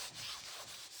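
A gloved hand rubs black background paint onto a surface for a paint pour, making a soft, close, continuous rubbing swish in uneven strokes with no talking.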